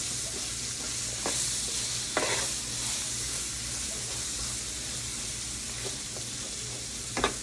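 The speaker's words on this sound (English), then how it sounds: "And we're gonna saute these onions" Onions sauteing in a pan toward golden brown for smothered liver and onions, a continuous close sizzle broken by several stirring scrapes and clacks of a utensil.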